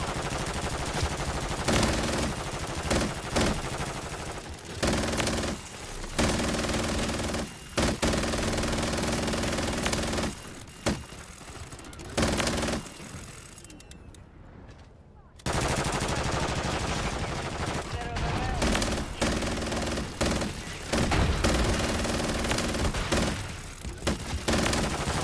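Video game gunfire rattles in rapid, dense bursts that stay loud and close for most of the stretch, dropping away briefly midway before the shooting resumes just as heavily.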